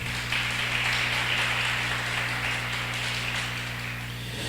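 Congregation applauding inside a church, a dense, steady wash of clapping holding for several seconds at moderate loudness over a constant low hum, with no speech.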